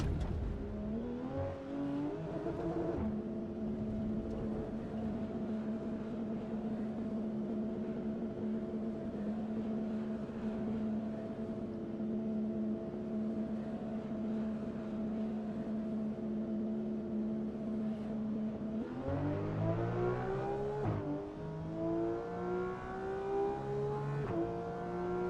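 A race car at the Nordschleife in Assetto Corsa EVO holds a steady engine drone at constant revs for a long stretch, then the pitch climbs sharply as it accelerates near the end.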